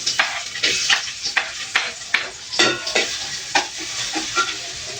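Garlic and onion sauté in a hot pan: a bright steady sizzle broken by a regular rhythm of spatula strokes scraping and stirring, heard up close with no voices.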